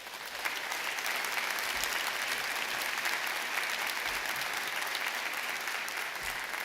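A graduation ceremony audience applauds in a dense, steady wash of clapping that holds at an even level for several seconds, with no voices rising above it.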